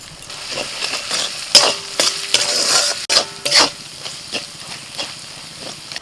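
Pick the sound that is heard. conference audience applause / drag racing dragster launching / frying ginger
frying ginger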